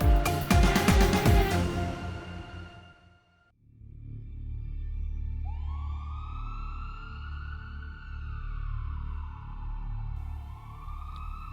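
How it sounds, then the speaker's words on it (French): Ambulance sirens wail in rising and falling tones against a low traffic rumble, following a burst of loud music at the start. "De jour comme de nuit, leurs sirènes traversent l'air et leurs gyrophares illuminent la ville."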